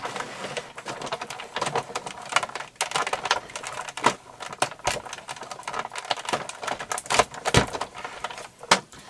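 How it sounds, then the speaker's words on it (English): A Big Shot die-cutting machine cranks a cutting plate through, giving a steady run of dense clicking, rattling and grinding mechanical noise up close, with irregular sharp transients throughout and no talking. "Then line your plate up, run it through your Big Shot."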